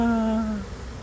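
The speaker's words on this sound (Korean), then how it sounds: "와 꿀벌들 날아다니는 거 보세요." Honeybees fly among opening blossoms, a loud, steady buzzing drone close by that holds briefly, then fades and drops away within about half a second.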